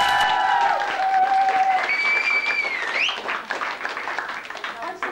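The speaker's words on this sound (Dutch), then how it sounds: "dat jullie echt allemaal elkaar even nog een gigantisch applaus geven" Applause from a vocal workshop group clapping for one another, dense and steady throughout, with voices and a sung or whistled melodic line riding over the clapping.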